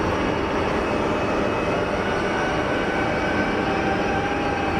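An EasyJet airliner departing Geneva for Luton gives a steady, loud, broadband roar that holds evenly for the whole stretch with no voices over it.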